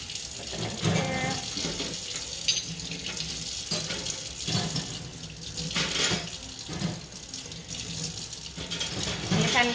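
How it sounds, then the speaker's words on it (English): Instruments rinsed under a running tap in a sink, a steady close splash of water with brief clinks and shifts in the flow as items are moved beneath it. "I'm just going to kind of rinse them a little bit."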